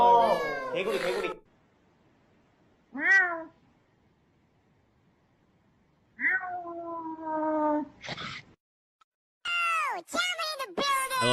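A person imitates a cat, giving several drawn-out, rising-and-falling meows in short bursts separated by silence, with a quick flurry of cries at the end.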